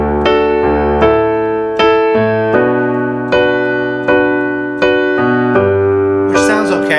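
Piano with a D octave in the left hand under a right-hand chord, struck in a series of sustained, ringing chords with a steady rhythm, close and clear, no talking.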